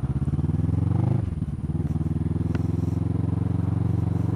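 A Suzuki V-Strom 650 motorcycle engine throbs close by in a steady, lumpy rhythm that dips briefly before settling back into an even pulsing beat.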